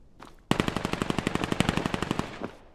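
Rapid automatic gunfire in the video game Vail shooter, a close, loud burst of about twenty evenly spaced shots lasting around two seconds, followed by a single trailing shot.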